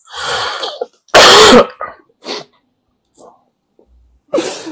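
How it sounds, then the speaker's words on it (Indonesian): Several harsh, loud coughs and throat clears come in bursts, close to the listener, separated by short silences and breaths. "maaf guys, lagi batuk"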